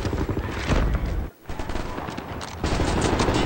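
Sustained suppressive gunfire in Wolfenstein: The New Order, a loud continuous rattle of automatic weapons with a brief pause partway, dense and close.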